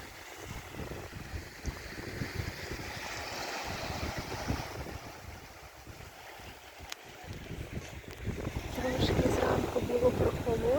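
Black Sea surf washing onto a beach at a southern Odesa-region resort on a cold, windy day, a steady wash of waves with gusty wind buffeting the microphone, swelling louder toward the end.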